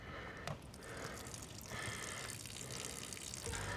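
Water draining from the opened valve on a 2023 Roadtrek Zion RV holding tank, a steady soft rush and trickle with a few faint drips, continuous and fairly quiet throughout.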